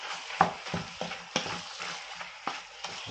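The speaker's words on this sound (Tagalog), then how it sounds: "Tapos mix lang natin yung egg." A spoon stirs egg into sizzling sisig in a pan, with a steady fry hiss broken by several sharp scraping clicks of the utensil against the pan, close and alone.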